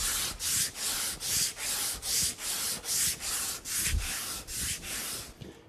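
Wood is hand sanded with a flat sanding block in steady back-and-forth strokes, about a dozen even, rhythmic rasping passes close up with no talking.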